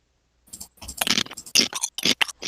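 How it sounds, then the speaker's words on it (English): Loud, close crunching as someone bites and chews crisp nachos with salsa and cheese, irregular bursts of crunches separated by short pauses, starting after a moment of silence. "Listen to that crunchy goodness."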